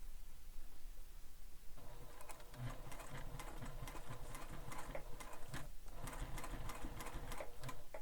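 A sewing machine stitches a backpack strap over webbing, starting up after a quiet moment and then running steadily with a rapid mechanical patter for several seconds, close and alone.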